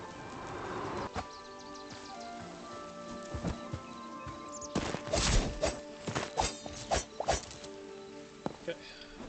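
Horse hooves clip-clop in the Hytale video game, a run of soft, close hoofbeats in the second half with a few scattered thuds before, mixed with faint bird chirps and low game ambience.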